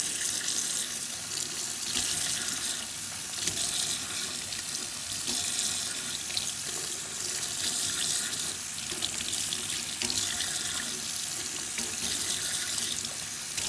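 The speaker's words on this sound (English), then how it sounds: "You're gonna rinse it out a couple times." Tap water runs steadily into a sink while a test tube is rinsed out after yeast water is dumped, a continuous splashing hiss with no one speaking.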